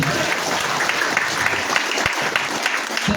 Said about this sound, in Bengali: নিজেদের জন্য আরেকটু জোরে সোরে করতালি চাচ্ছি।